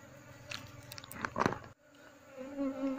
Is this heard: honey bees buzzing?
yes